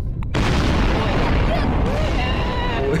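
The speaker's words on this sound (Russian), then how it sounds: "где мы взрываем бомбы." A bomb blast in the sandbox game Garry's Mod: a sharp onset bursts into a loud, sustained rumbling boom that fills the rest of the moment.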